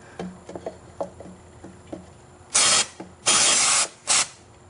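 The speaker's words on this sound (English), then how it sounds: "in here you're gonna spray Carb Cleaner and scrub with the toothbrush" Several short hissing blasts from an aerosol can of carb cleaner sprayed into a Vortec 4.3L V6 throttle body, close and loud, after a few quiet clicks and taps.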